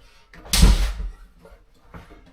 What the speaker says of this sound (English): It starts off by putting my foot underneath the door, lifting it up in here, get the pivot part